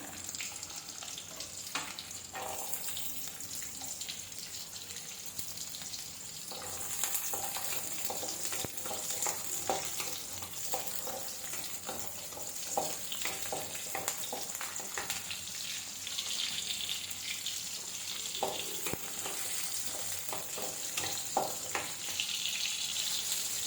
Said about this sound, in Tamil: சட்டியில் எண்ணெய் காஞ்சதுக்கப்புறம் 2 வரமிளகாய், ஒரு பெரிய பல் பூண்டு முழுசாக ஒரு பெரிய பூண்டு, அது கூடவே சின்ன வெங்காயம் ஒரு கைப்பிடி அளவு போட்டு நல்லா தாளிச்சிக்கலாம்